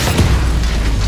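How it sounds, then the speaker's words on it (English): A heavy, loud boom with a deep rumbling blast that fills the whole moment: a battleship's large guns firing a salvo at close range. "The massive guns fire their third salvo."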